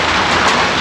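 Steady rain falling outdoors, a dense, even hiss of broadband patter that stays close and constant for under a second with no speech over it.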